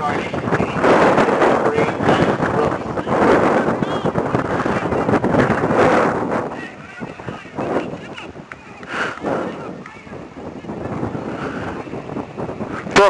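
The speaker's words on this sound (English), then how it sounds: "Wind picking up now." Gusty wind buffets a microphone over a soccer field, a loud rumbling roar that surges, fades and returns, with a commentator talking over it.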